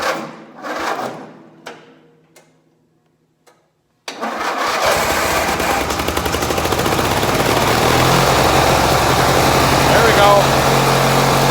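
An old Gilson cultivator tractor's small engine cranks and catches, then settles into a loud, steady idle that fills the second half, with brief talk and quiet pauses before it fires.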